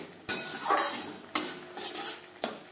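Spoon stirring pakal (eel) fish curry in a pan over a high gas flame, three sharp metallic scrapes and clanks at roughly one-second intervals over a soft sizzle, close and clear with no talk.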